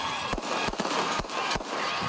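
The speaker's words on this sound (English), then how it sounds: "And it was time to cue the fireworks." Fireworks burst at a senior boys' championship celebration, four sharp booms spaced evenly apart over a constant wash of crowd noise and cheering.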